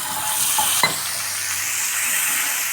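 A spice paste with turmeric, salt and a little water stirs and fries in a pan for potol posto, making a continuous close sizzle with a single metallic scrape of the spoon early on.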